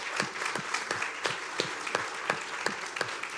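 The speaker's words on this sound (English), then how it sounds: "Can I get a big round of applause for our panelists today?" A modest audience at a public policy forum on mental health claps for the panelists, with sharp distinct hand claps in a brisk, uneven patter, moderately close and without talk.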